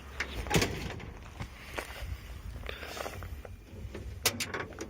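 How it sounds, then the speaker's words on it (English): An old Ford OBS pickup truck door, recently repaired, is shut and then opened again: two distinct close clunks a few seconds apart over quiet background, with no talking. "I'm gonna shut the door and show y'all how easy it opens now"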